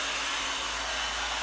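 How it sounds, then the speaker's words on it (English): Remington 3D hairdryer running, a loud, continuous, even blowing whoosh close up with a low motor hum and no talk. "Got this new Remington 3D hairdryer."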